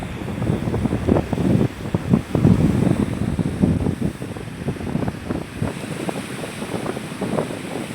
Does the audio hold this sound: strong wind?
yes